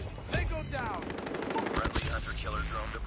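Rapid automatic gunfire in Call of Duty, a dense burst of shots and explosions rattling continuously, with a person talking excitedly over it.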